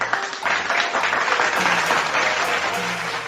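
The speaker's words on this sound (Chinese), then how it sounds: "掌声鼓励鼓励" Applause from an audience during a livestream radio show, a steady dense patter of clapping that holds throughout at a fairly loud level.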